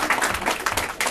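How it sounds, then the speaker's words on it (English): An audience at a 2014 Independence panel discussion gives a round of applause, a brief wash of dense clapping at moderate volume. "can we also have a round of applause for Tyrone, who tirelessly organises these events"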